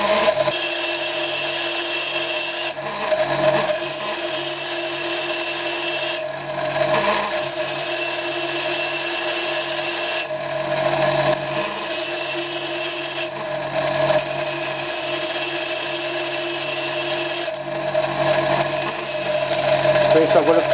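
A bench grinder grinds a flat onto the end of a screw-cutting lathe tool with a loud, continuous whine, broken by brief pauses every few seconds as the tool is lifted and re-presented to the wheel.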